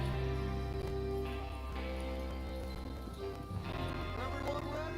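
Horses gallop in Red Dead Redemption 2, with steady clip-clop hoofbeats and occasional whinnies carrying under a full, continuous game soundscape while voices talk over it.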